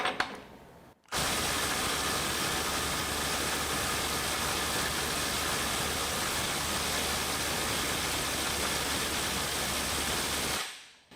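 A Milwaukee M18 FUEL 2853 impact driver runs against a stubborn bolt for about ten seconds, a loud continuous close hammering buzz that starts abruptly and then cuts off and fades, with no talk.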